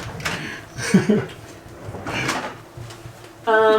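A kitchen drawer in a Tokyo apartment slides open or shut with a short wooden rumble and clack, followed by further handling noises; a person talks nearby.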